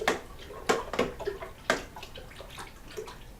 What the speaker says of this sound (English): I'm just going to reuse it to stir it around.